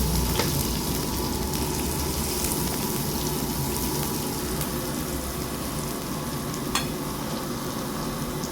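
Onions frying in a home kitchen pan give a steady, close sizzle that runs without a break, with faint stirring and a few light clinks on top.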